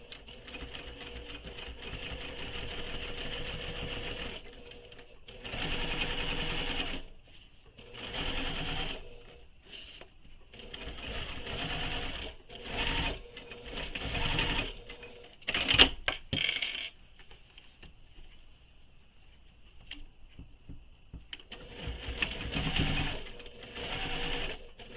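A sewing machine top stitches a wallet in repeated bursts of rapid mechanical whirring, stopping and starting over and over with quiet pauses and a small metallic clink between runs.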